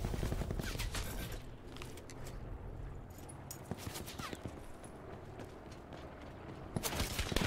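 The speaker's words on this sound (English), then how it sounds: "Getting shot at from behind." Gunfire from the battle royale shooter Call of Duty: Blackout: scattered, sharp shots crack irregularly, some near and some distant, against a busy background of footsteps and game ambience.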